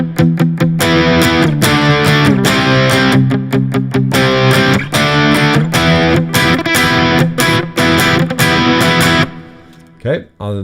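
An electric guitar plays a rhythm part through an effects unit set with reverb only and no delay: loud, driven strummed chords in a choppy pattern that stop near the end, leaving a brief ringing tail.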